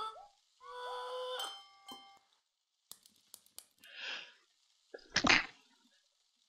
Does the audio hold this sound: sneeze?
yes